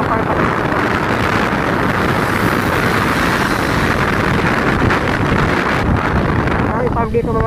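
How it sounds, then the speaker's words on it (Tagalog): Steady, loud rushing wind buffeting the microphone on a mountain ride on a Yamaha NMAX 155 scooter, a constant roar with no pauses. "malamig ang simoy ng hangin"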